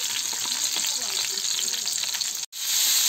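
Ready-made dumplings filled with minced meat, like pelmeni, fry in a pan with a close, bright sizzle and faint stirring ticks, broken by a momentary cut near the end.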